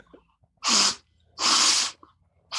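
Two forceful, close sneezes from a man with the flu, separated by a brief pause and a quick breath, with the start of a third at the end in a quiet room.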